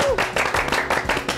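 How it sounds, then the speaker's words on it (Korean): An audience claps to welcome a National Pension Service retirement-planning lecturer, a short burst of dense, close applause with many hands, loud and continuous. "큰 박수로 맞이해 주시기 바랍니다."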